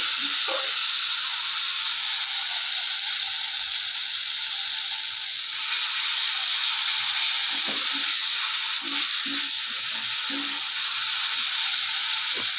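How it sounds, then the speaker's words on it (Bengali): Rohu fish curry spice paste frying steadily in a pan, a continuous loud sizzling hiss with occasional soft scrapes and clicks of stirring throughout. "এটা কষতেই থাকবো। দেখো মশলাটা পুরো আমার কষানো একবারে পারফেক্ট রেডি।"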